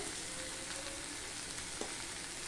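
Chili powder hits a softened tomato masala frying in a pan, giving a steady, fairly faint sizzling hiss with a small pop, close by and without any talking.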